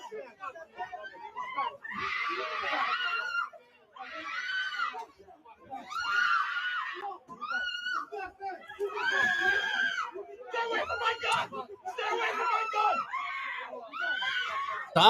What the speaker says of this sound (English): Stop that woman from screaming.